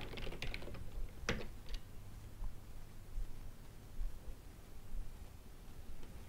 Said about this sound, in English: I'll type AWS configure.